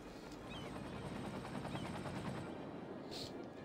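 Helicopters working in the city-building game Cities: Skylines give a steady rapid rotor chop that holds throughout at moderate, even loudness, mixed with faint in-game ambience.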